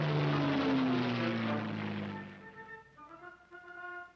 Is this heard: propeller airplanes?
yes